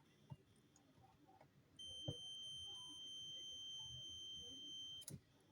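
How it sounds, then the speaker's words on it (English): A steady high-pitched multimeter beep holds continuously for about three seconds, then cuts off, with faint clicks and handling noise before and after, while testing a damaged high-voltage microwave oven capacitor. "You are not supposed to be getting this beeping sound when you test these capacitors."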